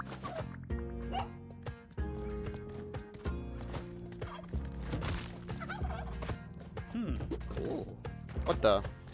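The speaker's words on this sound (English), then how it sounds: "Four turkeys." Several turkeys gobble in a video game, with repeated rattling gobbles under continuous game music and sound effects, fairly loud and busy throughout.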